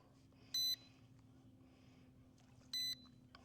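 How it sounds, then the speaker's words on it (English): Ruko U11MINI drone and its remote beeping while connecting: two short, high electronic beeps about two seconds apart, quiet against a faint background hum. "we're going through all the beeping, trying to get all this connected"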